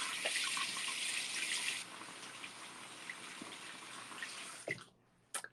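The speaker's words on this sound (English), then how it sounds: "Okay, one second while I wash my hands." Hands being washed under a running tap, a close gush of water that drops to a softer trickle after a couple of seconds before shutting off with a few clunks.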